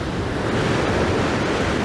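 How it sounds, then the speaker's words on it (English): Ocean waves break and wash continuously onto Crosby Beach in strong wind, a dense, steady roar of surf with heavy wind buffeting on the microphone and no voices. "every now and then we get a nice big wave"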